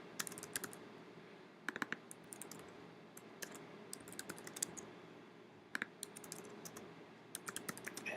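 Typing on a computer keyboard while filling in a Google Form, with bursts of sharp key clicks in an irregular rhythm over a steady low room hum, close and moderately loud, no speech.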